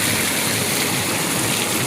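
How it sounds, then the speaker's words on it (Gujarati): Heavy rain pours down outdoors near GD Chowkdi in Ahmedabad: a loud, dense, unbroken hiss of downpour that stays steady throughout, with no voices. "તો ફૂલ વરસાદનો માહોલ થઈ ગયો છે અહીંયા."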